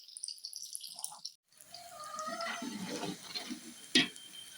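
Chopped onions drop into half a kilo of hot ghee in a biryani pot and break into a steady, crackling sizzle with scattered pops, close and moderately loud after a brief quiet start.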